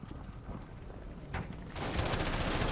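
Gunfire in Rainbow Six Siege: scattered shots during an indoor firefight, with a denser, louder burst of fire near the end.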